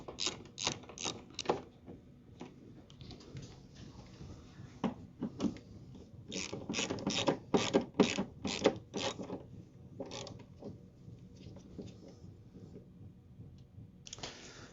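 A ratchet with a 10mm socket and extension tightens a bolt during Toyota Corolla wiper linkage work, giving bursts of rapid close clicking with pauses between sets of strokes.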